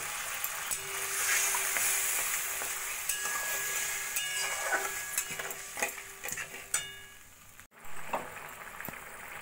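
Tomato masala for a Bengali egg curry sizzles and bubbles in a pan after water is added, a steady dense crackle with faint stirring and utensil clinks, no voices.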